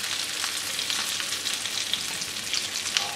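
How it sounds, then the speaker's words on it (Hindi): Shami kebabs frying over medium heat in an oil-filled pan, a steady close sizzle with faint crackles and pops throughout, no voices. "हम मीडियम आंच पे मैं इन सारे कबाब को फ्राई कर लूंगी।"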